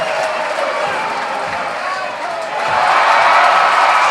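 A basketball arena crowd at a women's NCAA regional final cheers and applauds in a loud sustained roar that swells toward the end.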